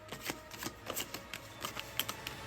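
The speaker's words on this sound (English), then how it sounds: "You're shuffling all of these again." LEGO Ninjago trading cards being shuffled by hand, a steady run of close, crisp riffling and flicking with small bursts throughout and no talk.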